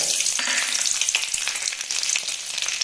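Onions and garlic sauté in a pan for a spicy chutney served with uttapam, a dense, loud, continuous sizzle with faint stirring movement, up close and without speech.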